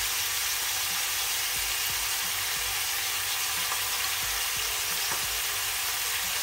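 Veal tendrons browning in a frying pan, seasoned with ras el hanout and nutmeg, give off a steady, even sizzle of hot fat with faint scattered pops and spatters, close and continuous, with no talking.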